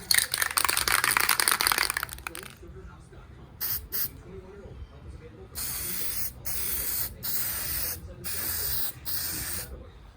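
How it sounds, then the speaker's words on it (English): Several short hissing bursts of an aerosol spray paint can, each lasting about a second, following a longer steady hiss at the start, close by, while painting 1986 Buick Grand National engine parts. "Here goes the first spray."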